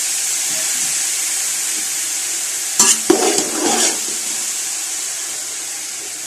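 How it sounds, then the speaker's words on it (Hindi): Grated carrots fry in hot oil for gajar kheer, a steady bright sizzle running throughout, with a brief burst of louder stirring and spattering partway through, no voices. "गाजर को ऑयल में मैं 1 से 2 मिनट तक फ्राई करूँगी।"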